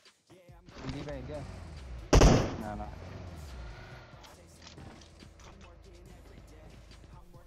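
In PUBG Mobile, a grenade explosion bursts loudly midway through a stretch of game ambience and rumbling, with a voice talking over the action.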